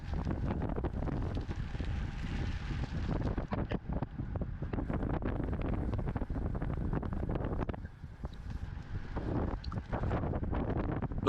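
Steady wind buffeting across a cycling race course, a constant loud rumbling roar that barely lets up, briefly easing for a moment before returning at full strength.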